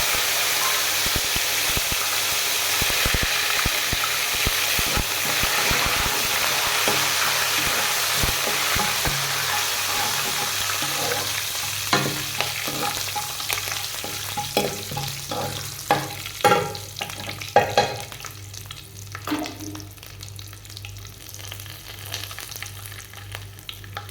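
Curry leaves dropped into hot oil for a kadhi curry, a loud, dense crackling sizzle that gradually settles into scattered pops and stirring clatter.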